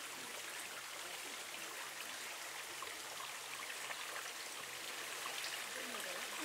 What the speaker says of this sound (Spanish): Todo el lugar está lleno de pequeñas fuentes.